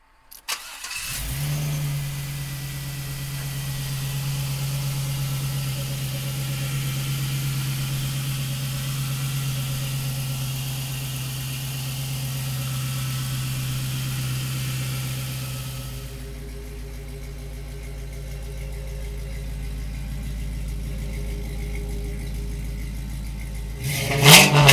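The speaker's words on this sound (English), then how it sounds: "Come on up, we'll fire it up for you right now." A 1971 Chevrolet Camaro with an LS1 V8 cranks and fires up close by, settles into a steady deep idle, shifts to a lower rumble partway through, and finishes with a sharp rev burst, with no voices.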